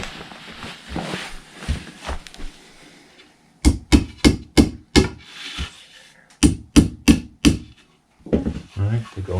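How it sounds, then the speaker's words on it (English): Two bursts of sharp hammer blows on wooden dowels being lightly tapped into an IKEA Tornviken open cabinet, about six quick strikes each, with quieter handling noises and a voice before and after. "so you can put the dowels in and hammer them in lightly"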